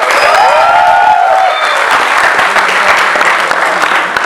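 A university roast audience gives loud, dense applause with a brief whistle and cheer at the start, the clapping continuing evenly close by.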